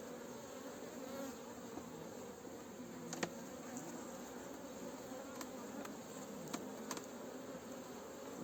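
Steady, dense buzzing of many honeybees around an open hive frame with brood, continuous and close, with a few brief clicks and knocks over the drone.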